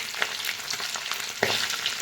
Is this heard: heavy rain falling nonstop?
no